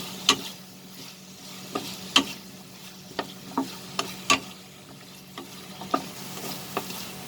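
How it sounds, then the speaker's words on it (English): Potatoes and ghugni ingredients sauté with spices in a pan, a low steady sizzle punctuated by about a dozen sharp spatula taps and scrapes against the metal, close and alone without talk. "Saute this with the spices."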